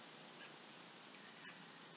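Crickets chirp softly outdoors beside a back step, a faint steady insect trill with a few high pulses over low hiss, with no voices.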